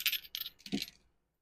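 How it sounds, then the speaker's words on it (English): Dice rolled for a collective reading, giving three quick rattling bursts of bright clatter within about a second, close and fairly loud, then silence, with no talk. "let's roll the dice"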